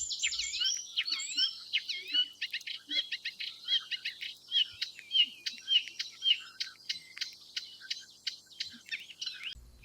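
Reed warbler calling from a reed bed, a long run of rapid chattering, scratchy notes repeated in quick bursts, moderately close and otherwise quiet.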